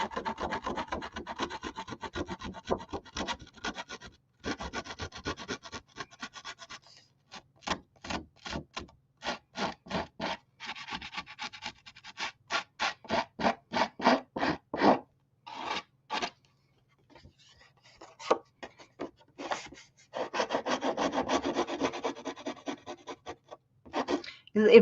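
Edges of a binder cover are roughed up with quick, rasping back-and-forth scrubbing strokes, close and fairly quiet, in uneven bursts with short pauses between them.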